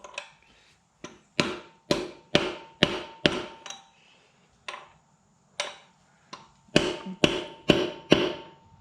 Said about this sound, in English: We're gonna start with my rubber mallet. Let's see if that gets it going.